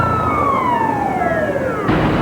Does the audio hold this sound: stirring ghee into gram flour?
no